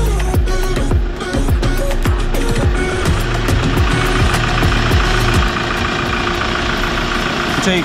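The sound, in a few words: truck engine idling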